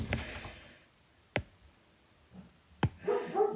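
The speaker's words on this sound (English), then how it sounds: "sorry about the dog barking" A dog barks a few times somewhere in a house, sharp separate yelps with pauses between them, while someone talks quietly at other moments.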